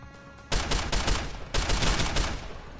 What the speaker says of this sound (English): Okay, maybe with gunfire we can attract them.